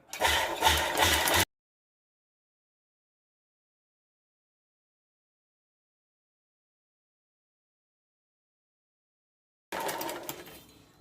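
A sewing machine stitching lining fabric for a sleeve whirs in two short bursts, one at the start and one at the end, with complete silence in between.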